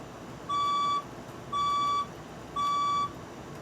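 A building fire alarm sounds during a test with three evenly spaced, loud electronic beeps, each about half a second long, over a low background hum.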